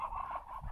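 Chickens and ducks calling together in their pen during lockdown, a brief burst of clucking and squawking from several birds at close range, steady and fairly loud.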